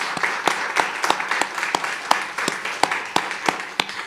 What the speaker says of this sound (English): I would like to give our staff a round of applause for the outstanding work they've done.